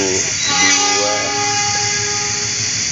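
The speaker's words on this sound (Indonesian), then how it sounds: "Ada yang mau ngitung ada berapa yang mau lewat keretanya?" A train rolling past with its freight wagons, a continuous close rumble with a sustained tonal horn-like hum, while a voice talks over it.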